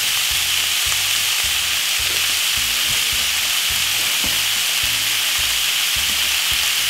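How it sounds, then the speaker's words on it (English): Minced meat browning in a frying pan, seasoned with paprika and hot pepper, giving a steady loud sizzle with rhythmic scraping and stirring strokes, with no talk. "brown up your meat for roughly about 5 minutes"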